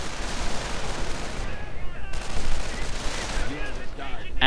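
Rapid, overlapping gunfire from snipers and other units in a World War strategy game, a dense crackle of shots and bursts that stays loud throughout the short stretch with no talk over it.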